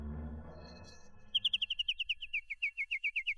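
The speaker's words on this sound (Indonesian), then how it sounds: "Lu tahu nih 2 burung ini." Two birds chirp in a rapid series of bright, high tweets that begin after low rumbling fades, close and clear with no talk.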